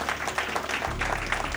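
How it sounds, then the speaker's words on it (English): An audience at a business school Model UN event applauds faculty colleagues in a brief burst of steady, fairly close clapping. "So big round of applause for them."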